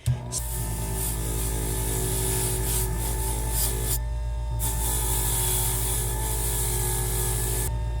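A yellow 180-grit abrasive wheel grinds against spinner rings at a jewelry bench, producing a loud, continuous rasping whir with a steady motor hum, briefly easing off midway before resuming.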